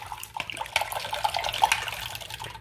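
Warm bath water running and draining away, a steady watery wash with bubbly gurgles and splashy flickers, fairly close and continuous with no talk.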